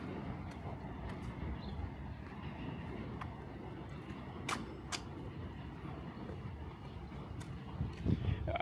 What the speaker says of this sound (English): Here goes the F train.